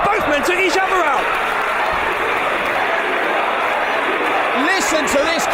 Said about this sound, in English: Listen to this crowd, Dave, at the whole City Hall.